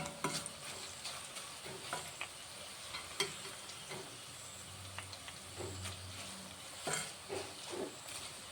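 Garlic and green chillies fry in oil for mango pickle, a quiet, close sizzle broken by repeated scraping and clinking of a spoon stirring the pan at an irregular pace.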